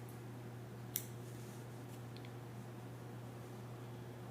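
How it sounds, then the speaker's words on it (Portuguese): A single quiet snip of scissors cutting crochet yarn, one short crisp click against a low steady hum in an otherwise still room. "Já vamos cortar a linha."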